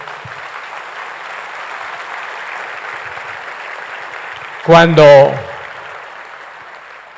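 Church congregation applauds in a steady, moderate wash of clapping that runs throughout, briefly interrupted midway by a short spoken word.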